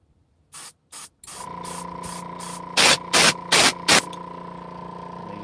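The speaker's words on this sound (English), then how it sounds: "So I love the airbrush." Airbrush spraying paint onto a Gundam model kit: a compressor hum runs underneath while short, sharp hissing bursts of spray come in quick repeated pulses, close and crisp.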